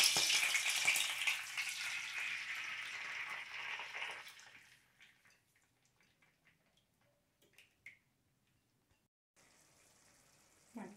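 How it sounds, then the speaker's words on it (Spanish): Garlic and tomato frying in a pan sizzle steadily and close up for about four seconds, then fall away to scattered faint ticks and pops, with a soft hiss returning at the end. "ponemos lo primero a dorar los ajos. Una vez dorados, le agregamos el tomate."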